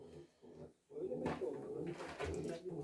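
Pigeons in a loft cooing softly in low, throaty bursts, close by, with a brief quiet gap near the start before steady overlapping coos.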